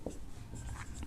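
Pen writing out a Class 10 maths solution on paper, a short burst of close, soft scratching strokes with no voice over it.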